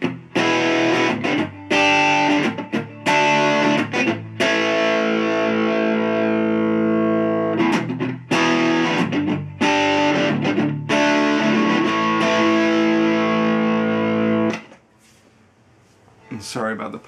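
A 50s Gibson Les Paul Studio Tribute electric guitar with 11 or 12 gauge strings plays loud distorted chords, sustained ringing strums broken by brief stops, then a quiet pause before a few fainter notes.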